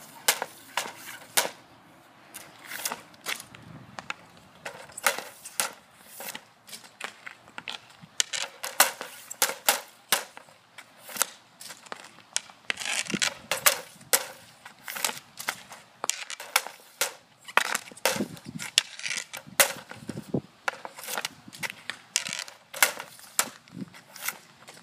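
Road hockey shots outdoors, a long run of sharp cracking impacts as stick strikes ball or puck and hits the net, irregular bursts spaced through the whole stretch with no talking.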